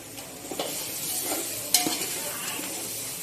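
Chicken pieces go into a hot pan of frying masala for biryani and are stirred, giving a soft steady sizzle broken by several scraping, clinking spatula strokes and one sharp metallic knock, heard close with no talk.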